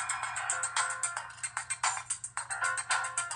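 An HTC 7 Surround phone's loudspeaker plays a ringtone at maximum volume, a bright, rapid run of repeating electronic tones pulsing in quick bursts, loud and close with no talking.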